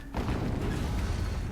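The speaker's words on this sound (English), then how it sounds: "Some serious explosions going on here. Another explosion." A loud, close explosion in the video game Horizon Zero Dawn, a sudden booming blast that sustains as a dense rumbling roar without fading.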